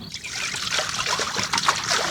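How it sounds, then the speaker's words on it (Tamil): Tap water running over raw chicken pieces in a village kitchen, a close splashing trickle with irregular wet spatters as the meat is handled under the flow. "வாங்க சிக்கன் கழுவி எடுத்துக்குவோம்."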